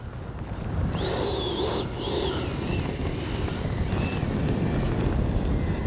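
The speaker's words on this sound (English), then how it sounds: "And it is stupid windy right now." Strong wind roars steadily over an outdoor RC jet flying field, a loud broadband rush buffeting the microphone, while a FREEWING 90mm F-22 ducted-fan jet whines in the distance with rising and falling pitch.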